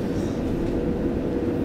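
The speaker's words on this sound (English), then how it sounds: "Maybe a train behind us is gonna take over us." A Brighton to Bedford passenger train rushes past, a steady loud rumble and roar heard up close for the whole moment, with no voices over it.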